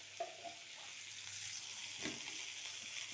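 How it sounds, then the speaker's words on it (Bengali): Cauliflower and lentil dumplings sauté in hot oil in a pan, giving a steady, close sizzle with a few soft stirring scrapes and no voices. "এবার আমি ফুলকপিটা আর বড়িটাও এর সাথে দিয়ে দিচ্ছি, দিয়ে একটু কষাই।"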